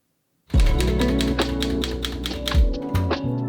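A vintage typewriter used for typewriter art clacks through a quick run of close, sharp keystrikes with a low mechanical rumble underneath, starting after a brief silence.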